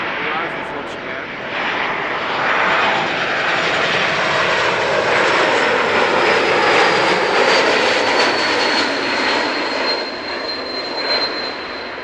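Fixed-wing aircraft arriving on runway 06 at Amsterdam Schiphol Airport, a steady loud engine roar holding for the full stretch with a faint rising whine, voices murmuring underneath.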